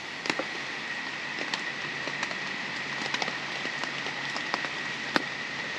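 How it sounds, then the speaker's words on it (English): Steady rain pattering on a tent near Lake Saketah, a dense even hiss broken by sharper individual drops striking the fabric close by, with no voices. "it is raining, obviously"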